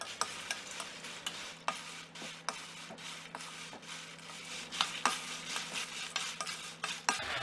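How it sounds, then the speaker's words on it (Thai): Steady dry rattling and scraping as chilies are dry-roasted in a pan over low gas heat, with frequent light clicks and taps as they are stirred, continuous and close. "มาตั้งกระทะเพื่อคั่วพริกกันค่ะ"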